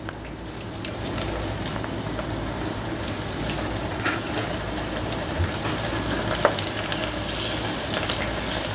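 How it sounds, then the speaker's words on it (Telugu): Crispy cauliflower pieces fry in hot oil, a steady dense sizzle and crackle running throughout at close range, with a few faint clinks and bubbling pops and no talking. "సో దీన్ని మనం ఫ్రై చేసుకుందాం. నూనె వేడెక్కింది, ఇది ఒక్కొక్కటిగా వేసేద్దాం."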